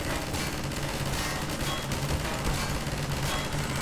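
Rapid, continuous gunfire rattles without pause, dense automatic bursts from a turret machine gun in Half-Life 2 played in VR, firing nonstop.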